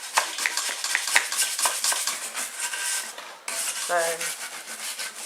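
An old rusty kettle coated in cooker grease is scrubbed with a brisk, uneven rubbing and scraping that runs nearly the whole time, with a brief pause partway and a short word spoken at the start.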